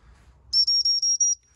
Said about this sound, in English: I'm going to start off with the whistle that probably most people probably will introduce first